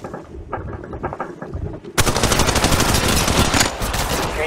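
Rapid automatic gunfire from the mobile battle royale game Apex Legends Mobile, lighter scattered shots first, then a sudden dense, sustained burst of loud, close firing.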